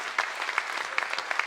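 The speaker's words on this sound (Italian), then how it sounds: "Un applauso per Zamu e Thomas." An audience at a cabaret show applauds, a dense patter of many hands clapping at moderate volume from a short distance, with a few sharper claps standing out.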